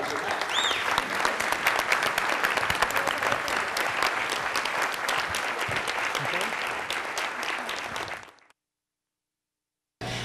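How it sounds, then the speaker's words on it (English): Audience applause fills a lecture hall after a talk, a dense sustained roar of many hands clapping with scattered voices mixed in, stopping abruptly near the end before a short return. "applause"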